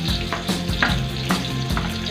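Shallots and garlic frying in hot oil in a pan for egg curry, a loud close sizzle broken by rhythmic scraping strokes of a stirring utensil roughly every half second.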